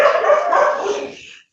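Dogs bark in a short, fairly loud burst nearby, the yapping sustained for about a second before fading out, followed by a brief faint sound.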